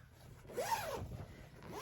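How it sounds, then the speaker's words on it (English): The zipper of a large clothes storage bag is pulled open in a couple of quick rasping strokes, close and fairly loud, with no talking. "So you just unzip"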